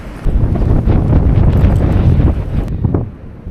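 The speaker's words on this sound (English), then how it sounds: "it would have been a really nice day today if the wind wasn't so damn bad" Strong, steady wind roars and buffets the microphone out on a frozen lake during ice fishing, loud and unbroken for several seconds before briefly easing at the end.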